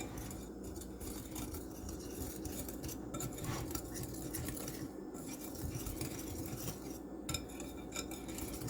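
Scone dough with orange zest mixed in a bowl for glazed cranberry orange scones, a steady soft scraping and stirring with faint utensil clinks against the bowl, continuous and close.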